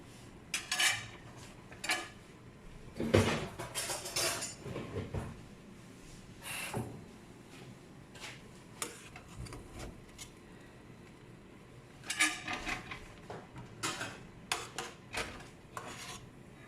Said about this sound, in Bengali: চালটাকে প্লেটের মধ্যে বেড়ে নিচ্ছি।